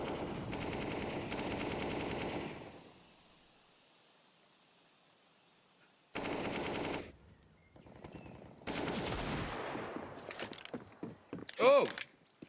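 Gunfire in the video game CS:GO, with sustained automatic bursts at the start and middle, then scattered shots and a grenade blast, loud and close with faint background noise.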